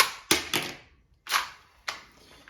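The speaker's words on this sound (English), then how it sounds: "click the trigger and it will pop out" Meto XL labelling gun with a yellow handle, its trigger clicked with the front cover open to pop out the ink roller; four sharp, close mechanical clicks and snaps, spaced unevenly with quiet gaps.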